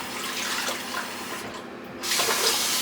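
A bathroom tap runs during a shave, its water pouring in a continuous hiss that dips briefly midway and then returns louder and fuller until the end.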